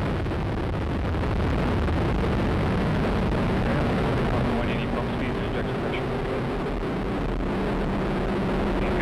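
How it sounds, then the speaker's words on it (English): A United Launch Alliance Atlas V rocket with five solid rocket boosters lifts off for the US Air Force AFSPC-11 mission, a loud, unbroken broadband roar that fills the whole stretch while a launch announcer talks over it. "liftoff of the United Launch Alliance Atlas V rocket with AFSPC-11 from the United States Air"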